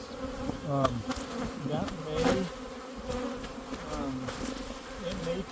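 Honey bees drone and hum steadily around a hive, a dense close buzzing with individual bees swelling and fading past, while a voice speaks softly underneath.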